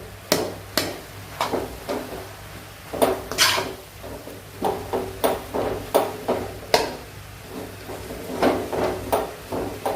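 A spoon stirring potatoes into beans, peas and cabbage in a metal pan, giving a series of sharp scraping clinks and knocks at an uneven rhythm, close and fairly clear, without talk.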